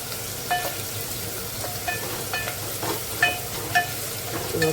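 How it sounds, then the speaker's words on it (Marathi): Onion softening in a hot pan for a Sunday non-veg home meal, a steady broadband sizzle with faint scraping stirs throughout, close and continuous with no talking. "कांदा असा छान मऊ शिजवून घ्यायचा"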